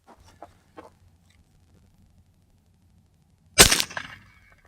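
A single sharp, loud crack from a REX-P .35 caliber PCP air pistol rings out after a quiet stretch and fades into a short echoing tail, with faint small knocks before it.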